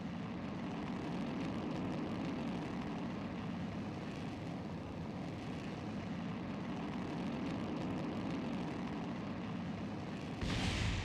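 Rocket engine in the RP-1 space simulation game, a steady loud broadband roar of ignition and climb that holds constant throughout, with a brief swell at the very end.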